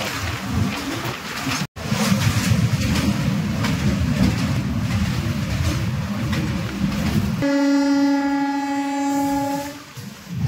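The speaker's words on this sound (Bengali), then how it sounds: "আমাদের ট্রেন এখন এসে পৌঁছালো উড়িষ্যা রাজ্যের রাজধানী কটক রেলওয়ে স্টেশন" The Howrah–Puri superfast express rolls into Cuttack station, a loud continuous rumble of wheels and carriages close by, ending in a long steady horn blast before the noise fades.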